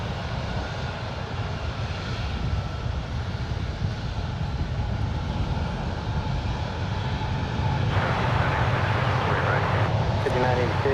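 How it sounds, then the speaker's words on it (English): An 18-year-old Delta Airlines Airbus A319 departing San Francisco International Airport roars steadily with engine noise, loud and continuous, swelling further near the end as it climbs away. "This is Delta Airlines Flight 1352, departing to Salt Lake City. It's an 18-year-old Airbus A319."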